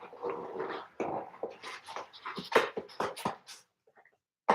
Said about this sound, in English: He was a pretty cute dog.